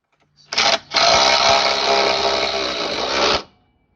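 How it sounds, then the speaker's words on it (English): A DeWalt cordless drill whirs steadily for about three seconds after a brief opening burst, driving and tightening a bolt during rear brake and shock work on a 2004 Honda Pilot, loud and close with no talking. "Let me get my drill"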